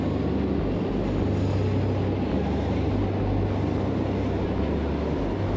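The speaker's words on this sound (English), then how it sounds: "Hopping onto the Lisbon metro." A Lisbon metro train rumbles along steadily with a low droning hum and constant rolling noise, heard from inside the carriage at an even level.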